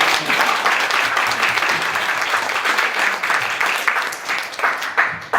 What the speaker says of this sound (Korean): 여러분 축하 박수 한번 쳐주세요.